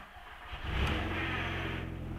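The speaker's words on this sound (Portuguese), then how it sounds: "Eu vou ligar o carro agora." A car fitted with a FuelTech wideband lambda sensor, running a very lean mixture, is started. After a brief quiet moment the engine catches with a close, loud rev and then settles into a steady, rumbling run.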